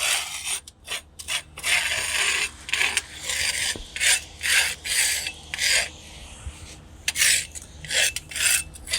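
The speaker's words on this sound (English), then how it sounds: "I'm going to take the scraper and clean off the outside lip so we don't have any obstructions." A handheld scraper rasps repeatedly along the outside lip of a pre-assembled part outdoors in the early morning, with loud, rhythmic scraping strokes in irregular bursts and no talk.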